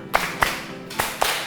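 Four crisp group claps from a class of students, sounding in unison with slightly uneven spacing, each a sharp burst followed by a short room tail.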